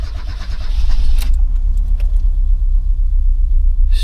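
A Talbot Express camper van engine turns over and settles into a steady close idle rumble, with a brief jangle of keys and a few clicks near the start.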